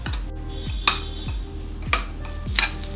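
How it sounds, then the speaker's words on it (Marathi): Fried rice with egg being stirred in a pan over a low flame. Close, rhythmic scraping strokes come about every half second, with sharper clinks of the utensil against the pan and a soft sizzle underneath. "गॅसची आच मंदच ठेवायची, फास्ट करायची नाही आणि हे अंडं पूर्ण शिजेपर्यंत आपण असं परतत राहायचं"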